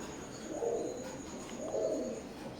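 Teddy pigeons of an imported Oman bloodline coo in two soft, low rounded phrases about a second apart, close by over a steady faint background hiss.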